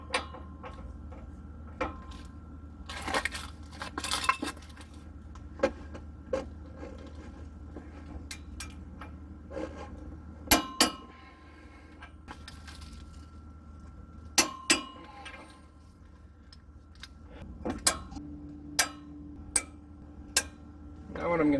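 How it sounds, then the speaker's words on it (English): Caliper bracket bolts being tightened on a 2016 RAM 2500 during a front brake change: scattered sharp metallic clinks and ticks at close range, with a few louder knocks among them and brief speech in the background. "I'm going to start off by tightening down my two caliper bracket bolts"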